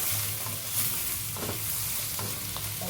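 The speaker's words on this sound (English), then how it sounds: "So once it's fried, add in your mixed veg. And just mix it all together." Mixed vegetables and fried ingredients for seafood-style Indomie instant noodles sizzle steadily in a pan while a utensil stirs and scrapes through them, close and continuous with no speech.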